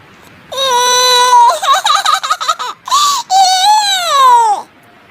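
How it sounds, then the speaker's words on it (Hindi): An infant cries loudly and continuously close by, with wavering wails, a choppy sobbing stretch in the middle and a final long drawn-out wail before stopping. "अरे बेटा, ये बच्चे के रोने की आवाज कहाँ से आ रही है?"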